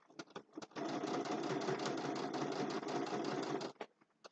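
Sewing machine stitching a zippered boxed bag: a steady, close, whirring run of rapid needle strokes lasting about three seconds, bracketed by a few short start-and-stop bursts.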